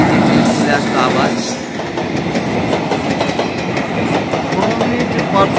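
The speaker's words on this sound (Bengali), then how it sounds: "এদিক থেকে আবার ট্রেন আসছে, এই যে ট্রেন চলে আসলো আবার।" A train rumbles across the Tista River railway bridge, with continuous loud rolling wheel noise and rhythmic clickety-clack close by, plus brief metallic squeals, steady for several seconds.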